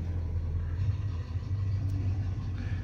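A 1985 Chevy C10 truck idling, a steady low rumbling engine drone with a faint pulsing throb, close and continuous, with no talk over it.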